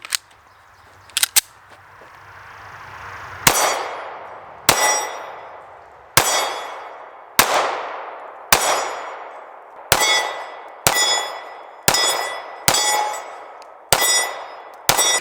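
Sig Sauer P365 pistol fired at a range, about a dozen sharp, loud shots at a steady pace, each cracking out and ringing briefly, after two quick metallic clicks at the start.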